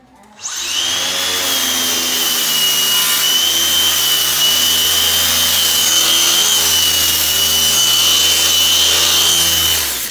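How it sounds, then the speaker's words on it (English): A wooden bookshelf being smoothed with a power tool, a loud continuous whirring hum with a steady high whine, running close and unbroken for nearly the whole stretch after a brief start. "It doesn't sand it, it literally just smooths it which is nice."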